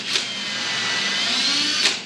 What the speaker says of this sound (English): I'm gonna drill a pilot hole.